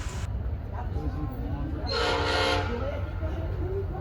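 Passenger train P316, led by CFRC locomotive number 105, rumbles past with a loud horn blast swelling in the middle over a steady rolling rail roar.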